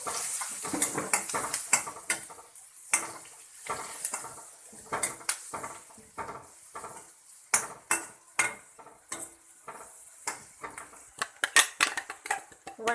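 Onions frying with a little turmeric powder in a pan, a spoon stirring and scraping in irregular clinks over a soft background sizzle, close and moderately quiet.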